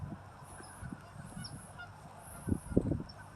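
Ducks seen at a distance call out with a few faint, scattered nasal honks over a quiet outdoor background, growing louder in a short cluster near the end.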